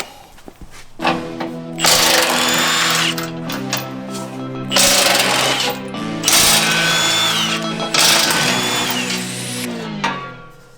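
Power tool (likely an impact wrench) spinning off nuts with an 18mm socket on a Jeep JL driveshaft, heard as several loud, whirring bursts of a few seconds each with brief pauses between, close by and alone.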